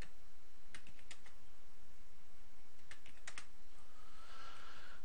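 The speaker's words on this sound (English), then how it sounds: "Let's just type in our scale numbers." Numbers being typed on a computer keyboard, two short bursts of crisp close key clicks separated by a pause, over a steady background hiss.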